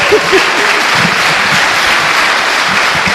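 A church congregation claps loudly and continuously, a thick wash of applause close by with a few faint murmurs or cheers underneath.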